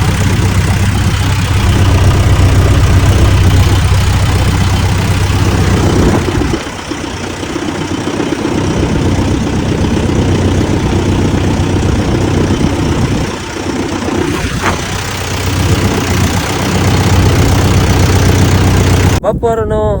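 A tractor engine runs in a village field, a close, loud and steady low rumble with a continuous mechanical drone that dips slightly midway and then carries on evenly.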